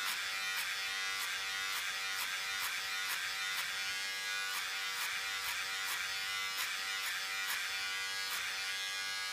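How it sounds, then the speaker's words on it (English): A 1-inch synthetic paint brush for gloss work has its bristles trimmed by a buzzing electric cutter, a steady close hum broken by crisp, evenly spaced snips of cutting, with no talking. "You can actually hear that cutting into the synthetic bristles."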